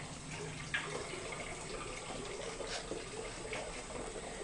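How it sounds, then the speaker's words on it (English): Water running into a dog's water bowl, a faint steady trickle and splash with a few small clinks, quiet and continuous. "Filling up the water bowl with the frozen water"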